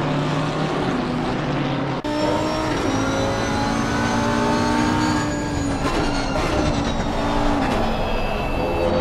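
Race car engine in a sim racing game at Brands Hatch, revving steadily with rising and falling pitch and a clear gear shift near the start, loud and continuous with no talk.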